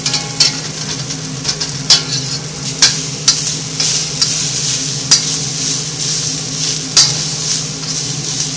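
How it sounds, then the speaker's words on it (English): Onions fry with a steady sizzle in a wok on an electric stove while being stirred, with sharp scraping clicks from the utensil against the pan at irregular intervals, close and fairly loud. "But notice how the onions are beginning to brown, and that's what you want."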